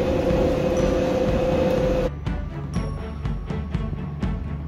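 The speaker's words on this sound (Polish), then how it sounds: "To jest kolejka bez maszynisty." A driverless train runs in London, giving a steady rumbling rail noise with a high tone that cuts off, followed by a series of rhythmic clicks and clacks from wheels and track.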